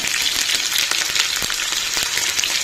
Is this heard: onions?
yes